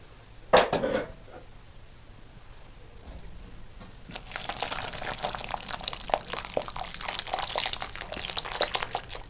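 A spoon clinks and scrapes in a pot of mushroom soup with potatoes and cream. One sharp clank is followed by quiet, then a steady run of soft stirring and scraping, with no voices.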